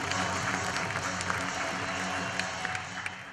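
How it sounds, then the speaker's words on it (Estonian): Steady audience applause in a school event hall, a continuous patter of many hands at moderate level with a few sharper claps standing out. "palun aplaus!"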